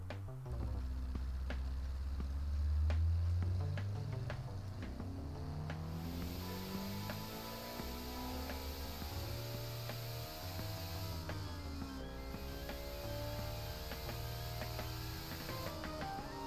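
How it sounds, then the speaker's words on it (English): Turbocharged race car engine in Automation / BeamNG, a 2-bar-boost, roughly 800-horsepower build, revving with rising and falling harmonic sweeps and a steady hiss of turbo pressure, loud and continuous without talk. "Listen to that turbo just spewing out pressure"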